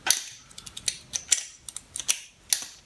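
A wrench loosening bolts on a GSX-R 750 SRAD engine being dismantled, sharp metallic clicks and ratcheting ticks in irregular quick bursts, close and clear with no talk.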